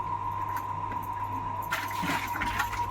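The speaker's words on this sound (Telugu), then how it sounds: "ఇప్పుడు అయిగో నీళ్ళు వస్తున్నాయండి" Water runs from a tap in a steady rushing stream that grows louder and splashier partway through, at a home where pots have just been scrubbed.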